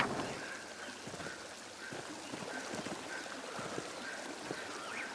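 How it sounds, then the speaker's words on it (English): In the video game Pentiment, a forest waterfall gives a steady, soft hiss of rushing water. A faint, recurring tone sits over the flow, and nobody speaks. "There's a waterfall down here."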